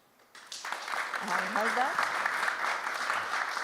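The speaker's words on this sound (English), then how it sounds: "let's give a round of applause for our cool panelists" An audience at a tech and startup forum applauds its panelists, a broad steady wash of clapping rising after a brief quiet start and continuing throughout, with a voice speaking briefly over it.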